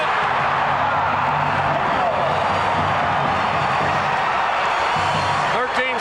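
A college basketball crowd at a 1992 Tulsa versus ISU game roars steadily after a two-point basket, with dense, sustained cheering throughout and a commentator's voice mixed in.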